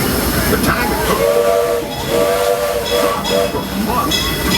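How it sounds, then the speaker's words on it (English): A genuine steam-powered Disneyland Railroad train hisses and rumbles close by while its steam whistle sounds in several drawn-out blasts, mixed with loud chuffing and steam noise throughout. "from the comfort of a genuine steam-powered train."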